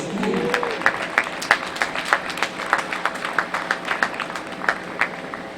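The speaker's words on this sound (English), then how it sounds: "Give yourself a round of applause, please." At an outdoor Stand Up NYC event against world poverty, a modest crowd claps in a loose, uneven rhythm, individual claps standing out clearly and fairly close.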